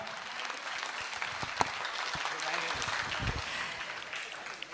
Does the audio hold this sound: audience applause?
yes